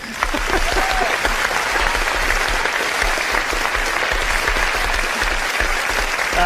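A live television audience at a London broadcast applauds two guests, thick continuous clapping rising at once and staying loud and even to the end, no voices over it.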